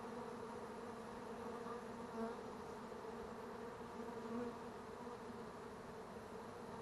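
Honey bees from a water meter box buzz in a steady, continuous drone with a low hum that holds throughout, slightly swelling at moments, no voices present.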